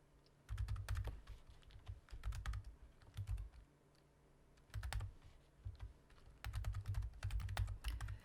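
Close, clicky typing on a computer keyboard while entering spreadsheet data, mixed with arrow-key presses, comes in irregular bursts of rapid keystrokes separated by short quiet pauses, with no talking.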